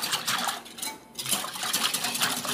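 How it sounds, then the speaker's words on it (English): Pancake wet ingredients for buttermilk pancakes whisked in a bowl, a quick continuous rattling clink of the whisk against the sides, close and fairly loud, with a short pause about midway. "And I'm going to whisk this together now."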